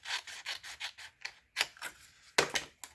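Rhythmic rasping strokes of green designer series paper being trimmed on a paper trimmer, about seven or eight quick close scraping passes followed by a couple of sharper cuts, alone with no talk.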